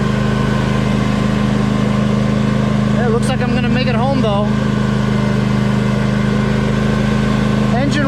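A small engine of a Husqvarna 2346XLS hydrostatic lawn tractor drones steadily throughout, close by, with someone talking briefly over it partway through.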